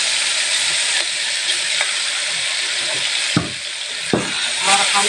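Spice paste hitting hot cooking oil for egg balado, a loud steady sizzle with frying hiss throughout, broken by a couple of stirring scrapes near the end.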